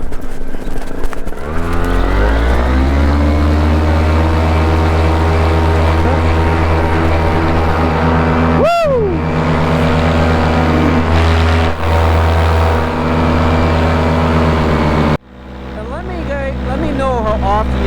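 A small aircraft engine powers up for launch and then runs through flight. The loud droning roar climbs in pitch early on, then holds steady and close. A brief whistling sweep cuts through near the middle, and the character shifts abruptly near the end.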